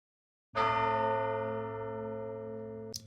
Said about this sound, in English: We have some bells.